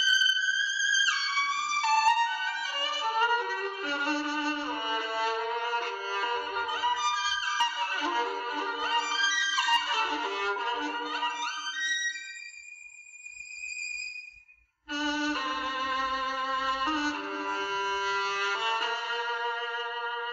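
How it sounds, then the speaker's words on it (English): A solo bowed violin plays a sustained, singing melody, alone and clear, with a brief pause before the phrase resumes. "A violin sounds like this."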